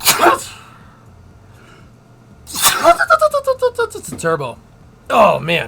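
Two loud, close sneezes burst out at the start and again near the end, separated by a stretch of someone talking excitedly.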